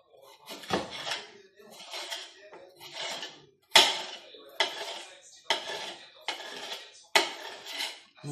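Bell peppers being julienned on a cutting board, a knife knocking against the board in a steady run of about nine cutting bursts, close and fairly clear, with no talking.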